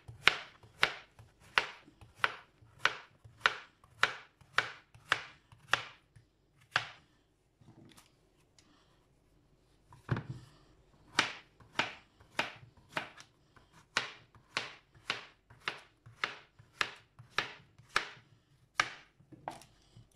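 A knife slicing zucchini on a cutting board in a quick, steady run of crisp thuds. The strokes pause for a few seconds, then resume at the same brisk pace, close and clear with no speech.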